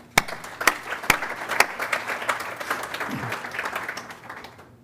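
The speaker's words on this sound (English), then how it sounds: "One more round of applause for them." A gala audience claps for honorees, with a few sharp distinct claps standing out early over a softer, uneven patter of applause that gradually thins toward the end.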